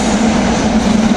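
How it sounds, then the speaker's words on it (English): Passenger train 6267 out of Norristown passes close by as a loud, continuous rumble with a steady low hum and no voices. "This is train 6267, the third train to 30th Street out of Norristown."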